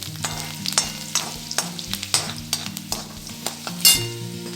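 Seven or eight chopped garlic cloves fry in a pan for a bitter gourd dish, with a spatula scraping and clicking in an irregular rhythm over a low sizzle, one louder scrape near the end.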